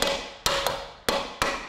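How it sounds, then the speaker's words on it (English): A hammer taps a rear brake cylinder into place on a 2010 Fiat Panda, landing four sharp, close metallic hits at uneven spacing, each ringing briefly before fading. "give it a couple of slaps with the hammer, just to make sure everything's seated properly"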